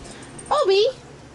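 A freshly groomed puppy gives a single rising-and-falling whimper at its own reflection in a mirror, close and fairly loud, lasting under half a second before quiet returns.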